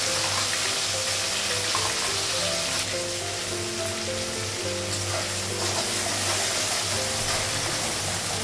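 Poppy seeds frying in a pan give a steady, loud sizzle that runs without a break, with no voices over it.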